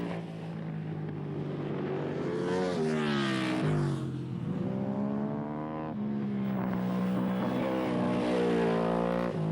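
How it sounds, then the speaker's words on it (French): A rare Bimota DB7 motorcycle with a Ducati engine races on a circuit at a French Superbike round at Le Vigeant, its engine note rising and falling through repeated revving sweeps and gear changes, loud and continuous with wind buffeting. "nous allons rendre visite à Arnaud Sajou, pilote d'une très rare Bimota DB7 à moteur Ducati"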